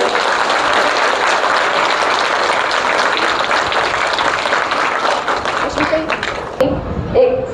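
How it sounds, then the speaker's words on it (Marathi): A crowd at a one-day meditation camp in Malwadi applauds loudly and continuously for a woman, a dense wash of many hands that fades out near the end as voices take over. "तर या ताईंसाठी सगळ्यांनी जोरदार टाळ्या वाजवायच्या."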